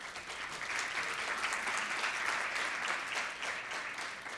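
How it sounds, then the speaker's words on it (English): Audience applause at the official opening of a sickle cell summit, a steady, dense wash of many hands clapping that holds at an even level for about four seconds with no voices over it. "Everybody give him a round of applause."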